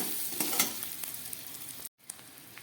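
Spices sizzle and crackle in oil in a pan for koi fish curry, with a few scraping stirs. The sizzle drops out briefly near the end, then faintly resumes.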